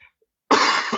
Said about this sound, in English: I hope you don't mind me coughing on this thing.